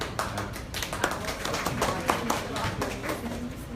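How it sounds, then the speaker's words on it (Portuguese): Scattered hand claps ring out in a city council chamber after a vote approves a resolution, a thin, uneven clapping from a small group heard fairly faintly, with some murmuring voices underneath. "Palmas para o vereador"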